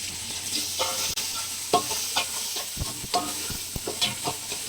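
Chili goes into a frying pan with cloves, bay leaf and a cinnamon stick, sizzling steadily while a spoon scrapes and stirs in short, repeated strokes close by.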